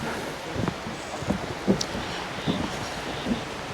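Wind gusting across an open lake park in the Jirisan area, a steady broadband rush with soft recurring buffets against the microphone and no talk.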